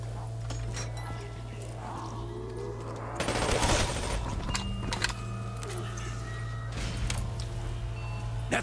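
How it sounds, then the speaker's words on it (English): Rapid submachine gun fire in Call of Duty: Black Ops III zombies mode, round 22 on the Verruckt map, with dense bursts cutting through steady game music and effects, loudest midway through. "Nothing like an SMG!"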